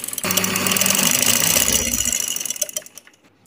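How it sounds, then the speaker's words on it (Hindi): A sewing machine stitches along folded sleeve fabric with a close, steady mechanical whir for about two seconds, then slows into a few scattered clicks before stopping. "यहाँ से आपने इसको इस तरह फोल्ड करना है और यहाँ पर रख के यहाँ ऊपर से सिलाई लगा देनी है।"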